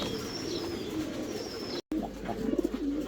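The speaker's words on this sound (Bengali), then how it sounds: "আপনারা দেখতে পাচ্ছেন এক পেয়ার টয় লাহোরি" A pair of Toy Lahori pigeons coo softly and repeatedly, with close, low throaty rolls and no talking over them.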